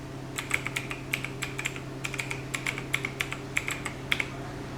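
Rapid keystrokes on a computer keyboard as an email address is typed in, a close, steady clatter of light taps in bursts with no talking.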